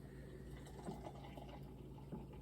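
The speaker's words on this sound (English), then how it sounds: "I will pour the beer the way I want" Beer is poured from a can of Half Acre Beer into a glass as a soft, steady liquid fill with faint bubbling and a few small splashes, quiet and close, with no voices.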